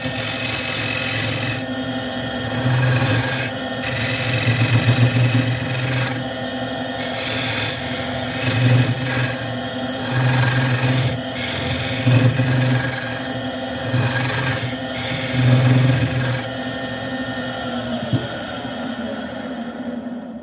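Scraper cutting a solid wood round-bottom bowl on a lathe, a steady close rasping scrape over the motor hum, swelling in short repeated strokes throughout.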